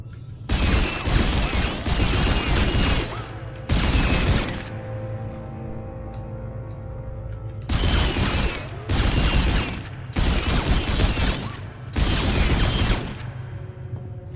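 Repeated bursts of rapid weapon fire in the sci-fi horror video game Dead Space 2, loud clusters of shots separated by short quieter gaps with low ambient hum.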